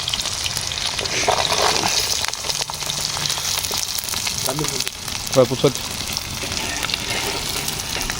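Onion and garlic fry in a pan, a steady crackling sizzle with a few louder bursts, while people talk faintly in the background.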